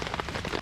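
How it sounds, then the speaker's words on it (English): Heavy storm rain drums densely and steadily on a cheap dome tent, a close, continuous hiss with no pauses. "It's been nothing but heavy rain for the past couple of hours now"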